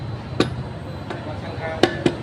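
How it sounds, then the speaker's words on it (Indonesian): Rubber mallet tapping ceramic floor tiles as they are laid: four sharp, dull knocks at irregular intervals, fairly close, over a low background murmur. "jajal tak palu karet iki kaya apa ta kualitete ngono lho"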